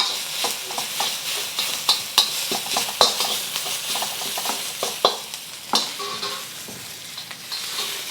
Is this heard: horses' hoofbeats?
no